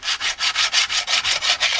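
A power tool grinds the casting ridge off a motorcycle wheel being prepared for paint, a loud close rasping in steady rhythmic strokes of about eight passes with no talk.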